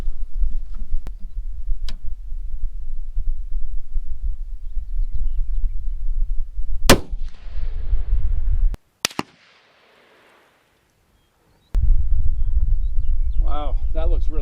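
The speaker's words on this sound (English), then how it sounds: "We're going to get ready for the first shot at 100 yards." A rifle fitted with a Vortex Diamondback scope fires one sharp, loud shot at a 100-yard range, a sudden crack that cuts through low outdoor rumble and is followed by a brief near-silence.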